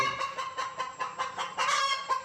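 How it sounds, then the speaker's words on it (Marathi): A broody village hen clucks close by in a steady run of low, pulsing, throaty notes, about a dozen in a little over two seconds, with a slightly louder agitated burst toward the end. "हात लावला आरडली तर खुडूक उठून गेली"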